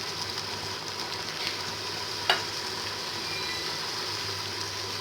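Curry leaves sizzle in hot oil with onions, a steady close frying hiss with one brief sharp crackle partway through, no talk.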